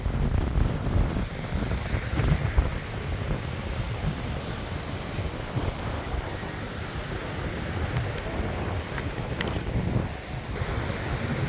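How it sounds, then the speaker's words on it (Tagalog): Strong wind gusting by the sea beside a boat, with steady roaring surf and broadband wind buffeting the microphone throughout, loud and continuous with a few faint clicks near the end. "Basta ang hangin."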